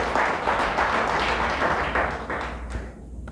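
A church congregation claps together in a steady burst of applause for a few seconds, dense and fairly loud, tapering off at the end.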